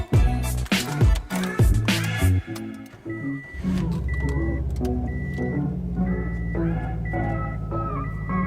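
Cars are moved around a garage where a Nissan 350Z project is underway. Sharp knocks and clunks open the sequence, then a steady engine idle hums, broken by short electronic beeps.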